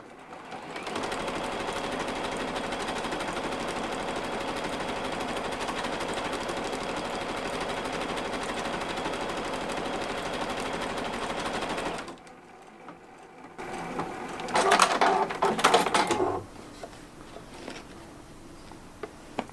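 A sewing machine runs steadily for a long stretch sewing decorative satin teardrop stitches, then stops, followed by brief handling noises.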